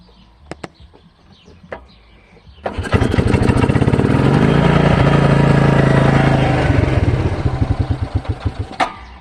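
A 2001 Suzuki King Quad 300 ATV engine, started cold: a few clicks, then it cranks and catches at about three seconds, running loud and close at a steady, lumpy idle before sputtering down near the end.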